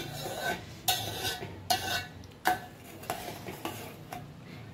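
Full cream milk with sugar is stirred in a pot for homemade mango ice cream, a spoon scraping and knocking against the metal at irregular intervals over a low background hiss.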